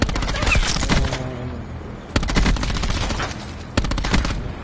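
Rapid automatic gunfire from a Call of Duty match comes in loud bursts, with a brief pause between volleys.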